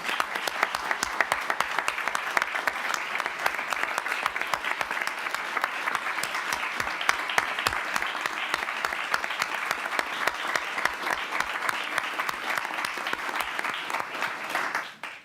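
An audience claps at a police chief swearing-in ceremony in Winston-Salem, a sustained, even round of applause from a sizable crowd that holds steady for about fifteen seconds before cutting off.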